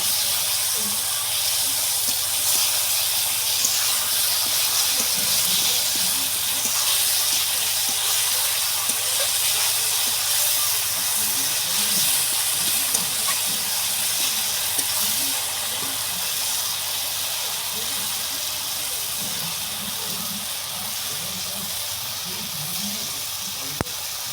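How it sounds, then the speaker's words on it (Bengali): Tomatoes, ginger, garlic and spices frying for a river fish curry over an outdoor clay stove, a continuous loud hissing sizzle that holds steady throughout with faint scraping underneath. "টমেটো কষাচ্ছে মশলা তৈরি হচ্ছে প্রায় কষানো হয়ে এসছে"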